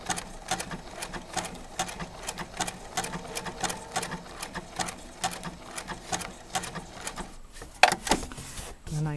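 A sewing machine runs a blanket stitch on fused applique, a steady rapid mechanical chatter of needle strokes for several seconds, then a brief pause and a few clunks as the machine is adjusted.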